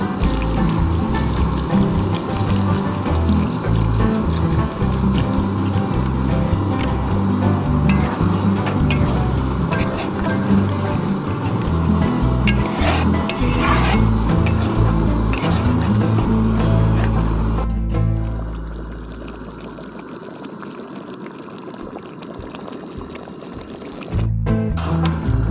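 Water poured into a pan of cauliflower roast, a loud, steady gushing and sizzling rush that fades out near the end, followed by quieter room sound.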